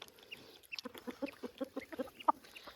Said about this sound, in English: Looks like the chickens would like it if Gus weren't hogging it.